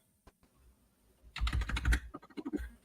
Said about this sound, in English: you out there typing?